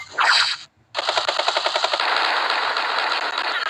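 Gunfire from an attack in the Advance Wars 2 video game: one short burst, a brief silence, then a loud rapid stream of machine-gun shots that merges into a steady roar.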